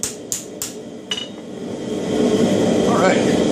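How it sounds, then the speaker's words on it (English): A hammer strikes the hot steel spine of a herb chopper in four sharp metallic blows, lightly planishing it, followed by a rising broad roar in the background. "I'm forging on the spine where it's still hot"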